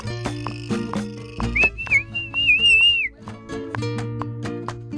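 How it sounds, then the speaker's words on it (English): A wavering, sliding whistle tone rises out of a busy electronic beat for about a second and a half, loud and up front over the rhythmic music. "Whistle is horrible."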